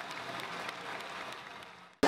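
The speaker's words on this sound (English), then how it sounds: "The audience, including choreographers and dance experts, returns the wonderful performance with an enthusiastic applause." Enthusiastic applause from an audience of choreographers and dance experts after a dance performance, a steady wash of clapping at moderate level that fades slightly before a sudden louder burst at the very end.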